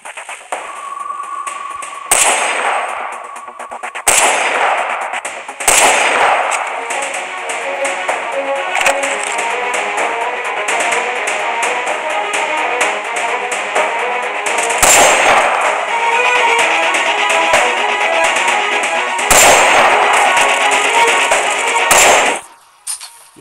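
AWM sniper rifle shots in a video game, several sharp loud cracks spaced across a continuous dense layer of game music and effects, with one final shot before the sound cuts away.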